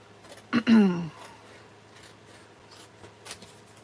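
A gray pencil traces a hand-drawn pattern on gray paper, giving one short, close scratching stroke before near silence.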